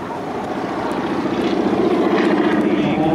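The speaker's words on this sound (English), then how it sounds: "Those propeller tips making that supersonic sound." A T-6 Texan propeller aircraft flies at an airshow, producing a loud, steady, rasping propeller drone that swells slightly as it nears, with no voices.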